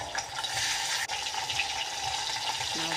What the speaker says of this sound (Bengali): সেখানে মাছ ভাজছি,